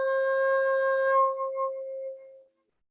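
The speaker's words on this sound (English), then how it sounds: "We want this nice low C sound." A recorder plays a clean low C, one sustained soft note held alone for about two seconds, then tapering away with a slight waver as the breath fades.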